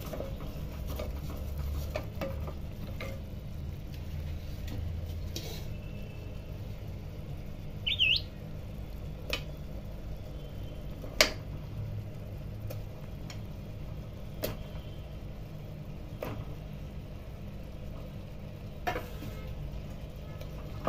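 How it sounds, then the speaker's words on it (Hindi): Mutton pieces fry with onions in a pan, giving a low, steady sizzle with scattered soft ticks and pops that stay fairly faint throughout. "इसमें अब हम डाल देंगे मटन पीसेस।"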